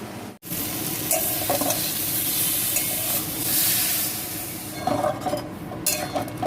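Boiled potato pieces with green chilli, ginger paste, cumin, salt and turmeric fry in a pan, a steady close sizzle with scrapes and clinks of stirring that come in short bursts.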